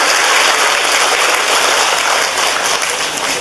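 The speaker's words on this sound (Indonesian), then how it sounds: "Kuwi tepuk tangan nembe pas." Audience applause in a hall during a Ramadan religious lecture in Temanggung, Central Java. The clapping is steady, loud and dense, and it carries on without a break from start to end with no talk over it.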